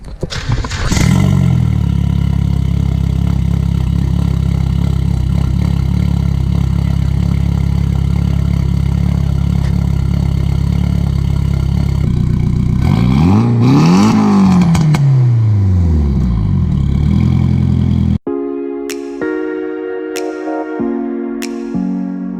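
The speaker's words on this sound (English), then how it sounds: "we're gonna start the car with the eBay exhaust on it," A Nissan 240SX fitted with an eBay exhaust cold-starts and settles into a loud, steady idle, then revs up and back down once before a series of short throttle blips near the end.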